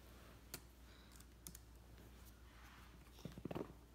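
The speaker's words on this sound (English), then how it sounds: "what are you typing?" Someone types on a computer keyboard at a quiet indoor distance, with sparse isolated key clicks followed by a short faster burst of taps near the end, under a low steady hum.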